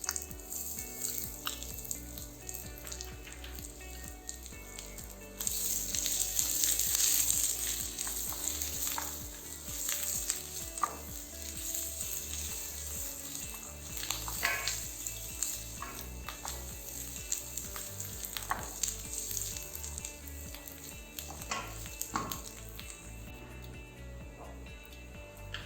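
Finely chopped ginger and garlic fry in a pan for a Thai Massaman curry, giving a steady close sizzle with occasional spoon scrapes and stirring clatter throughout, no talking.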